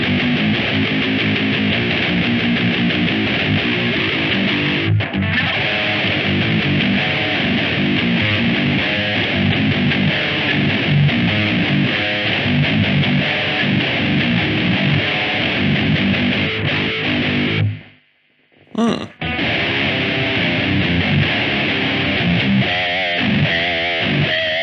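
An electric guitar played through a Line 6 Pod 2.0 with a Dirty Tree overdrive pedal gives a continuous, loud, biting distorted tone that cuts out briefly near the end before resuming.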